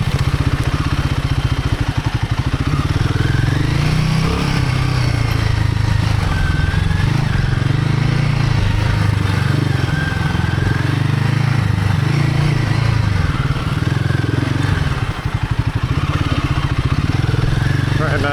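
A Royal Enfield Himalayan 450 motorcycle rides sandy singletrack in Michigan, its engine droning loud and close throughout with steady throttle and rising and falling revs, plus clattering from the rough ground.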